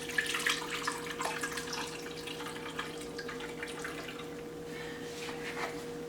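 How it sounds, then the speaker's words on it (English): Milk poured into a blender jar, a continuous liquid trickle and splash against a steady electrical hum, with a soft glug near the start and the stream tapering off toward the end. "I'm going to pour some milk in here."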